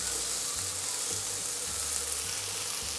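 Pork pieces for teriyaki sizzle and fry steadily in a pan, a continuous close hiss with faint low bubbling underneath and no voices.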